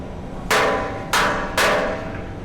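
A carrier part is hammered into place through a large socket, three sharp metallic blows at uneven intervals, each ringing briefly, close up over a low hum with no talk.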